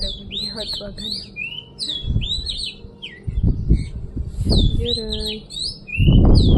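Sparrows chirp rapidly and repeatedly close by, a busy stream of sharp tweets, with a person talking and some handling noise mixed in.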